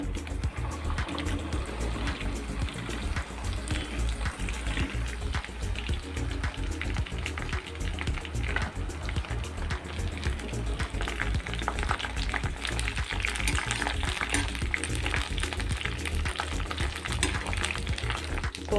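Palm fruit sizzling in half a cup of hot mustard oil with a dried red chili, a dense, steady crackle and bubbling hiss that runs continuously and loudly from start to finish, with no voices.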